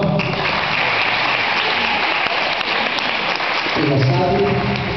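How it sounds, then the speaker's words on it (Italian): An audience claps in a sustained, dense burst of applause, loud and continuous, with a voice briefly rising over it toward the end. "Un applauso."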